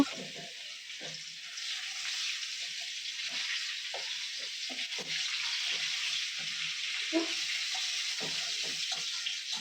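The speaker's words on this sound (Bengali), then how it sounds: "পেঁয়াজ কুচি এগুলো দিয়ে দিব পেঁয়াজগুলো ভালো করে ফ্রাই করে নেব" Chopped onions fry in hot oil, giving a steady bright sizzle throughout with scattered soft scrapes and clinks of stirring underneath.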